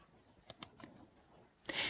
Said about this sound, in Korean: 왼쪽 화살표 키 눌러보겠습니다